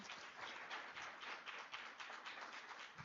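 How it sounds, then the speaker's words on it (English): Audience applause for a presenter at a university start-up day event, faint and fairly distant, with a quick, even patter of many hands clapping throughout. "So right now, round of applause for Basanda."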